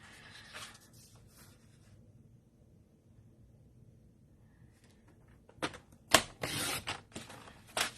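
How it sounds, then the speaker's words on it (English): Cardstock being trimmed on a paper cutter for a handmade card, a few handling rustles and then a quick burst of sharp clicks and slides from the blade, close and with no talk. "I'll just cut off 3 1/4 right off the end"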